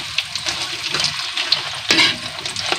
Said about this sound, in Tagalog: Hintayin lang natin maluto yung sibuyas bago natin lagyan ng ketchup.